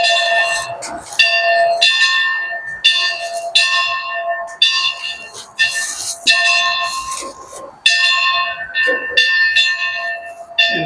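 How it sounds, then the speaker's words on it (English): Southern Pacific 1153 steam locomotive's bell rung over and over in a steady rhythm, each strike loud and close with a bright metallic clang and a lingering ring, and a soft hiss of steam underneath. "even ring the locomotive's bell."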